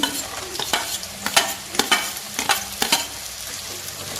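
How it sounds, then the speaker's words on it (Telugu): Carrot pieces tossed into onions and green chillies frying in a pan for carrot rice, a bright sizzle broken by repeated sharp scrapes and clacks of a spoon stirring, fairly close and with no voices. "ఇప్పుడు మనం దీనిలో క్యారెట్ ముక్కలు వేస్తున్నానండి"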